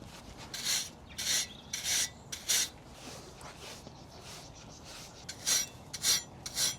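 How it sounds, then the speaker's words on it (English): A metal curry comb is scraped across a pony's grooming body brush to clear out dust, making repeated loud, rasping strokes in a steady rhythm, about nine in all, with short pauses between them. "we use it to clean the body brush. So what we would do is give the pony a good brush and then scrape it like that to clean it"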